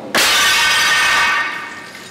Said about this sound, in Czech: Takže sklo se rozbilo na ostrý střepy, které můžou lehce někoho zranit.